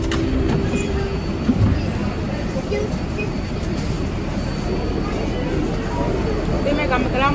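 Kawasaki R142A NYC subway car #7592 running on the tracks, a steady loud rumble and rolling hiss throughout with a brief higher tone near the start.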